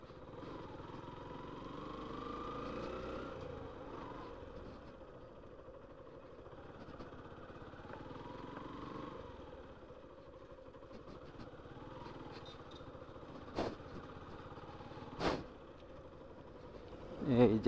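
Sand-carrying trawler boats chug along a river, their engines a faint, distant droning hum that wavers in level, joined near the end by a few sharp nearby knocks.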